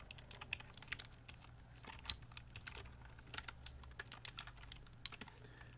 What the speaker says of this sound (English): So if you type at about 10 words a minute, this is what it might sound like